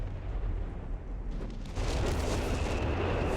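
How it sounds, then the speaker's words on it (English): A Vespa artillery barrage striking a 17-pounder anti-tank gun in Company of Heroes 3, a continuous heavy rumble of explosions that grows louder and brighter midway, booming blasts blending into one roaring wall. "The Vespa barrage is coming in on the 17-pounder yet again."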